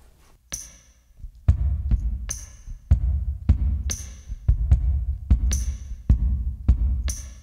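A finger shot percussion shaker worn on the foot and stomped on a DIY stomp box beats a steady rhythm of crisp clicks over deep thumps, repeating about every second, close and solo.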